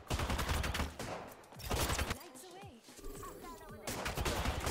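Gunfire from computer-controlled bots in the battle royale game Apex Legends, bursts of rapid automatic shots in loud clusters separated by brief gaps, with voices talking over parts of the exchange.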